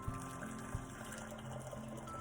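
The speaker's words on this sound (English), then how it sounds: "next you're going to pour some hot water in a saucepan" Hot water pours into a saucepan in a home kitchen, a steady low running-water hiss with a faint hum and a couple of soft knocks, continuous throughout.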